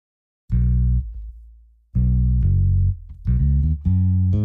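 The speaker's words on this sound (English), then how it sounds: "I just play bass guitar from ample sound" A dry Ample Sound bass guitar plugin line with no multi-band compressor, playing a few sustained deep notes in short phrases with brief gaps between them, close and fairly loud with no talk.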